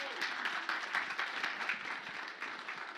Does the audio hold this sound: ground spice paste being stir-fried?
no